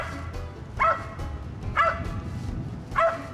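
A hunting dog barks at a squirrel up in a tree during a spring squirrel hunt, three sharp barks spaced about a second apart, fairly close, over faint outdoor background noise.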